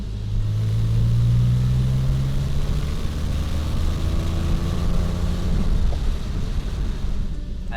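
Porsche 911 accelerating hard on an open road, its engine note climbing steadily in pitch through a long pull, loud and close from inside the cabin with a deep rumble beneath.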